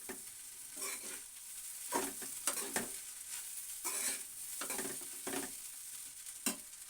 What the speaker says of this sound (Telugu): మసాలా వేసుకొని ఇట్లా కలుపుకోవాలి